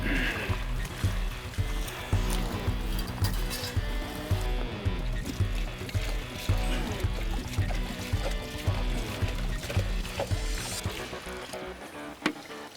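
Gold-bearing material being panned with water, sloshing and swirling steadily with splashy pulses close by throughout, with no voices.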